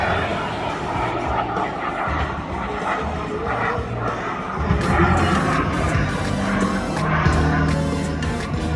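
A mini jet aircraft performs at an air show display, its engine roar rising and swelling mid-way as it descends behind trees, continuous and fairly loud with a commentator talking over it.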